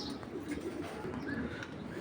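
Racing pigeons from a club loft coo softly at a pigeon farm, low, gentle murmurs repeating over a noisy background.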